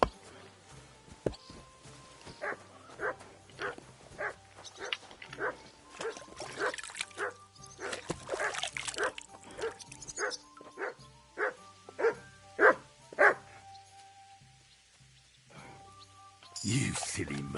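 A dog in Kingdom Come Deliverance II barks in a long run of sharp, repeated woofs, irregular and fairly close, some louder than others, amid faint background game sounds.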